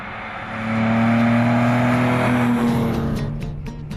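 Vintage 1968 MGC GT Sebring sports car driving on a country road, its engine note swelling loud as it passes close by, a steady throaty drone that then fades off.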